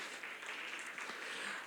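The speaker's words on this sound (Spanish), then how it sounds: "denles un aplauso a los retirados" Church congregation applauds those back from a retreat, a short, steady burst of many hands clapping at moderate level.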